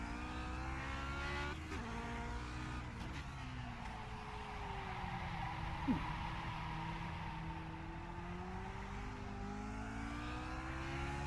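A Lotus 49 race car engine at Watkins Glen in a racing video game, a steady buzzing drone whose pitch rises and falls as it accelerates and shifts, continuous and fairly quiet, with a brief tyre chirp midway.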